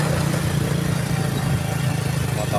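A motorcycle engine runs steadily up close on a ride to the Punthuk Watu Bangkong viewpoint in Sidorejo, Purworejo, giving a continuous low drone with a strong steady hum throughout and no talk.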